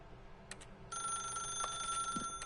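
A telephone rings with a bright, steady electronic tone that starts partway in, after a couple of short blips, and continues loud and close to the end.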